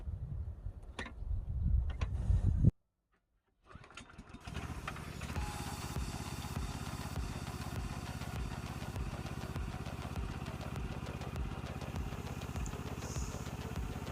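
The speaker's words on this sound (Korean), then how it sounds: "클러치가 차단이 되어 있는지 확인을 한 다음에 시동을 걸어요" An Asia AMC900 walking cultivator used for making potato ridges has its small engine started after a loud rumble and a brief silence, then settling into a steady, rhythmic ticking idle that runs on alone.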